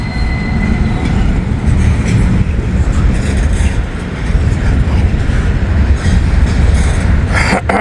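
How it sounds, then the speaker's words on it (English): A train rolls past close by on a stretch of track under work, a loud sustained rumble of wheels and wagons with rattling clatter and faint wheel squeal throughout. "I think that's the train that's coming up"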